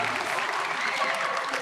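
An audience applauds at a school event, SMPN 16 Bandung, with dense continuous clapping at moderate distance that holds steady for the whole short stretch.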